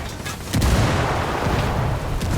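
A grenade blast in Ghost Recon Wildlands lands as a single loud, close boom about half a second in, followed by a sustained rumbling roar and scattered cracks of gunfire over the rest of the moment.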